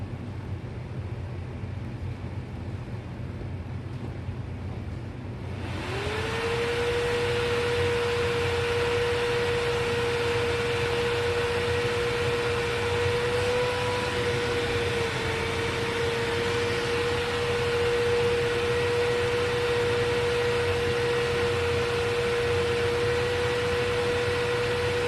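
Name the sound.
Bosch Premium Electro Duo XXL vacuum running at full power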